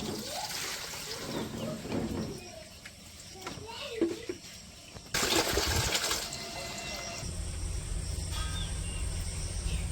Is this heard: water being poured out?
yes